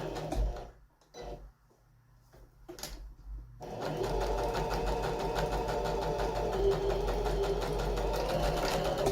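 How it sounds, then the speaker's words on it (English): A sewing machine stitches over braided cord along the edge of a one-panel pillow, a steady rapid close whirr running continuously after a few quiet handling sounds, with pigeon-like cooing faintly in the background. "then we are going to reverse, and then we're going to stitch over"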